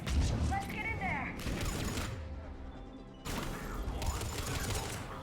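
Gunfire erupts at a checkpoint in Mass Effect 3: dense, loud bursts of automatic fire mixed with mechanical clatter, which fade briefly mid-scene before the shooting surges back at full intensity.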